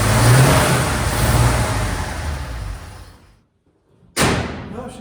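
A 1970 GMC 1 ton truck engine revving loud and close as the truck moves, easing off into near silence, then a sudden burst of engine noise returning.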